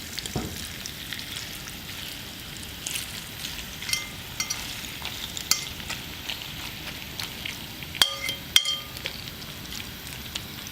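Spaghetti coated in chickpea flour batter sizzles steadily in hot oil, a dense continuous frying crackle with scattered sharper pops and a couple of brief clinks near the end, no voices.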